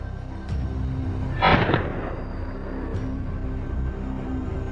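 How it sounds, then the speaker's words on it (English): A single sharp gunshot from a wild boar hunt in a forest, loud and close, followed by a short rolling echo, with a faint crack before it and another after. "The relentless gunfire echoed through the forest, signaling the end of the threat once and for all."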